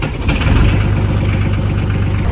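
A tractor engine idles close by in steady, low rumbling pulses that hold level and unbroken throughout.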